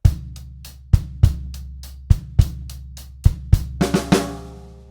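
Drum kit plays two bars of a rock groove, hi-hat and bass drum struck together on an accented beat, with sharp regular hits building to a flurry of fills and a ringing crash at the end.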